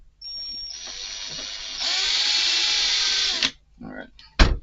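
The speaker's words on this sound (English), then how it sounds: "I'm just going to drill it with a bigger bit actually" Power drill boring out a part of a Tekno SCT410 RC short-course truck kit with a larger bit, a whining motor that rises in pitch partway through, then stops with a couple of short clunks afterward.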